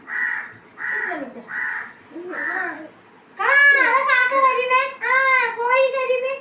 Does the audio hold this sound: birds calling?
yes